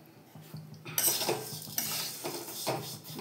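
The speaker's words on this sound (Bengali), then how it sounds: "একটু ভালো করে লাল করে ভাজি না, খেতে ভালো লাগে, তাই একটু ভেজে নিচ্ছি ভালো করে" A utensil scrapes and clinks against a pan in repeated stirring strokes over a soft frying hiss.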